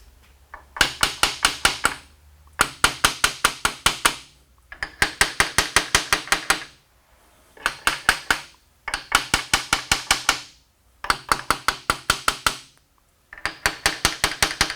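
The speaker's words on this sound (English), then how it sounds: "I'm gonna go get my brass hammer." A brass hammer strikes a steel gear shaft in bursts of rapid, sharp metallic blows, roughly eight to ten hits per series with brief pauses between, loud and close with ringing decays.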